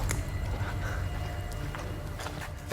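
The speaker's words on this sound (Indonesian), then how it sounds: "Samar-samar saya dengar seperti derap sepatu. Seperti ada langkah sepatu." Faint shoe footsteps under a steady background hiss, soft scattered steps across a few seconds in an indoor drama scene.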